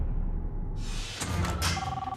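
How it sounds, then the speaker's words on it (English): A mobile phone rings inside a car with a driver at the wheel, a bright repeated tone rising over the steady cabin rumble in the second half, fairly close and loud, with no talk. "What's that noise? That was just my phone."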